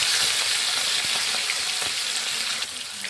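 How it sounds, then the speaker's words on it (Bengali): Katla fish pieces frying in hot mustard oil give a steady, close, broadband sizzle with scattered small crackles and pops, easing slightly toward the end; no one speaks. "তেলটা গরম হয়ে গেছে, আমরা এক এক করে মাছগুলো ছেড়ে দেবো।"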